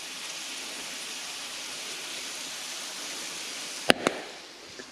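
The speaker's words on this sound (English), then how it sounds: "I can see that we're now getting some burning in our pan. Our oil is starting to burn." Oil in a pan on a steak-and-potatoes stove setup starting to burn, giving a steady broad hiss that runs throughout, with a couple of sharp crackles and pops near the end.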